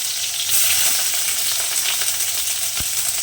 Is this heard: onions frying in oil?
yes